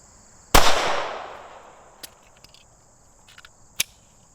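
A single loud, sharp gunshot from a Shadow Systems CR920XP micro compact pistol rings out close by, its blast decaying over about a second, followed by a few faint clicks and a small sharp metallic tick near the end.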